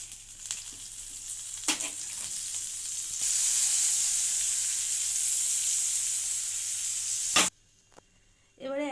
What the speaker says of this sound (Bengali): প্যানটা গরম হয়ে গেছে, এবারে এর উপরে বাটার দিয়ে দেবো।